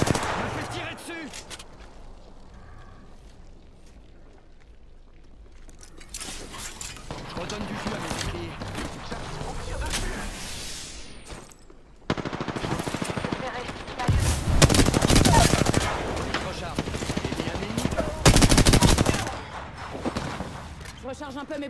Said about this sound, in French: me fais tirer dessus.